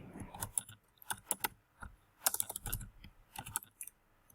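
Fingers tap on a computer keyboard entering a full name, a quiet, close series of irregular clicky keystrokes in short bursts with brief pauses.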